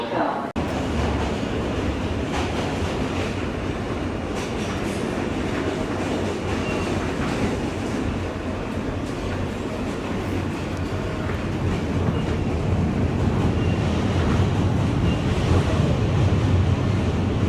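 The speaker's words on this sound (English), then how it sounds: "This is a Brooklyn-bound Q Express train." A New York subway Q Express train runs steadily, with a continuous loud rumble, rail roar and faint clicking of wheels throughout.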